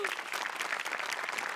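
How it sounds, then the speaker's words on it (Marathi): Studio audience applause for Amir's band on the Marathi comedy stage show Maharashtrachi Hasya Jatra, a dense, steady wash of clapping that stays fairly faint throughout with no voices over it. "आमिरच्या बँडसाठी पण टाळ्या."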